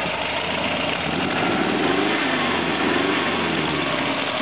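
A Subaru 1800 engine not firing on all cylinders revs roughly and sluggishly, a loud continuous close engine drone with uneven surging rather than a clean climb in pitch.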